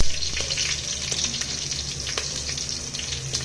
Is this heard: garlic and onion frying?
yes